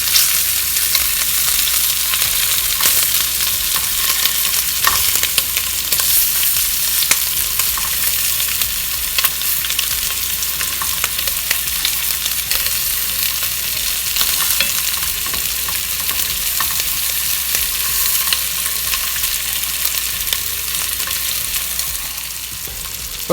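Cuban-style pork meatballs searing in a pan, a loud, continuous sizzle with occasional crackles and spoon stirring, steady throughout with no talking.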